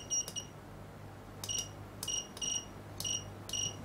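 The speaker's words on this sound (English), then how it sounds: "our beeper's working now" Electronic beeper on a freshly built dot matrix clock kit sounding a series of short, sharp high-pitched beeps, mostly in quick pairs, over a faint low hum with no speech.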